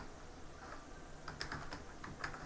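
Soft clicking of computer keyboard keys while typing code, a quiet irregular run of taps heard close in a quiet room.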